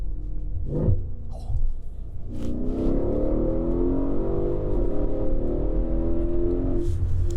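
The deep V8 engine of a tuned 750 hp Mercedes S63 AMG revs up and pulls hard, its rising roar holding steady and loud as the car accelerates.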